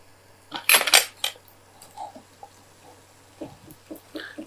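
A utensil clinks and scrapes against a bowl while eggs are mixed with dates for a date cake, with a burst of quick metallic taps early on, then sparser light knocks and clatters in a quiet kitchen.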